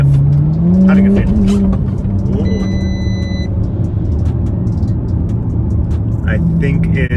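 A tuned Audi S5 with a TTE710 turbo on a Stage 3 tune pulls hard and loud from inside the cabin, the engine note rising while the tires squeal and scrabble for grip, with people talking over the roar.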